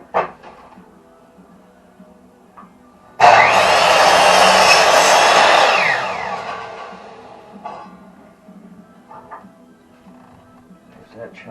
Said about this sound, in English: Cut that at the bandsaw, or the miter.